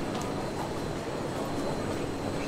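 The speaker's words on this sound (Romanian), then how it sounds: "Ascultați stația asta de metrou." Metro train at a Singapore subway station: a steady, loud broadband rumble of the train running through, continuous for the whole stretch with no voices over it.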